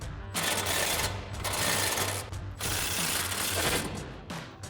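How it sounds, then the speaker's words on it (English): An impact wrench fitted with a 19 mm socket hammers at the lower strut mount bolt of a 2016-2023 Toyota Tacoma. It fires in three loud, close rattling bursts separated by brief pauses. "We're gonna grab our impact 19 millimeter socket and 19 millimeter wrench."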